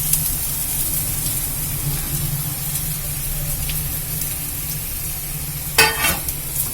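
Banana stem stir-fries in a hot pan, with a continuous steady sizzle and hiss throughout and a brief louder scrape and clatter of stirring near the end.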